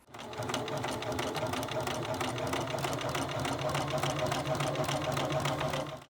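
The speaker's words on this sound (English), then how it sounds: "I'm gonna head over to my sewing machine and start stitching" A sewing machine runs steadily at close range, its rapid needle rattle and motor hum continuing without a break for several seconds.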